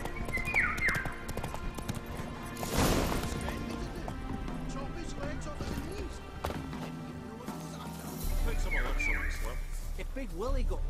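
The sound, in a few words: horse Roach hooves clip-clopping in the video game Witcher 3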